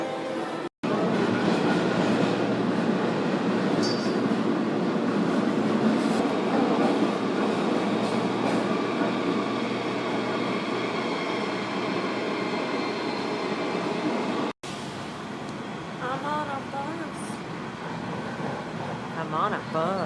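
An airport train rumbles steadily and loudly throughout, with a brief cut partway and faint voices under the noise in the final stretch.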